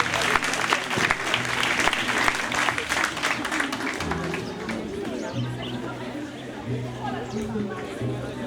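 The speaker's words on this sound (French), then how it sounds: "Vos applaudissements, s'il vous plaît." An audience at a school excellence celebration breaks into loud, dense clapping that thins after a few seconds into scattered claps, with voices and chatter carrying on beneath and after.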